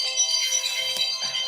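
A mobile phone ringtone plays a steady electronic melody, moderately loud, with a few faint background knocks and no talk.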